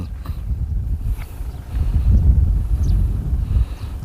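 Steady wind rumbles and buffets the microphone on a red dirt road through the rural countryside of Ubon Ratchathani in southern Isan, Thailand, a continuous low roar with no voices.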